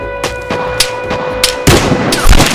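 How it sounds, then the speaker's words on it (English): Sniper rifle fire in the online shooter Vigor: several sharp gunshots, the last one louder and closer with a booming tail, over a steady game background tone. "Sniper shot. Sniper kill."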